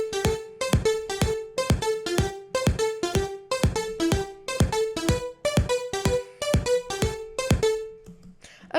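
EDM track intro with drums: a steady four-on-the-floor run of punchy kicks layered with bright crisp hits and a sustained tone, loud and close, stopping abruptly near the end.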